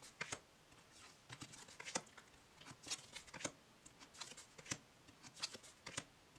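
A deck of collectible cards riffles past quickly as the edges are flipped, making a faint, rapid patter of soft snaps in uneven bursts, close and quiet with no voice.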